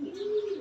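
A racing pigeon gives a single short, low coo, close and fairly soft, with no talk over it.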